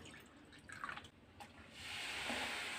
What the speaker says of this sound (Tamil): இதில் கொஞ்சம் வினிகர் ஊற்றி விடுங்கங்க.